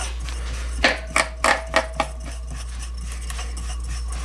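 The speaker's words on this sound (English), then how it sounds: "now I'm screwing the impeller on, as you can see" Metal parts of a Hayward pool pump clinking and tapping as the impeller is screwed onto the shaft, a short run of five sharp knocks close by over a steady low hum.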